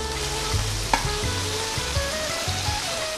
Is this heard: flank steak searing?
yes